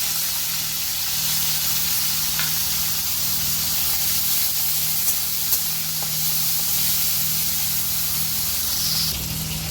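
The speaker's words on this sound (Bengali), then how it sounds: "এবার আমি চিংড়ি মাছটা দিয়ে ভেজে নেব।" Prawns fry in hot oil for patal chingri, giving a steady close hiss and sizzle that carries on evenly throughout with a few faint pops.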